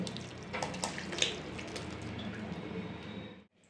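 Besan batter is poured from a pan into a bowl in a home kitchen, making a soft, continuous liquid splatter with faint drips. It is fairly quiet and cuts off abruptly near the end.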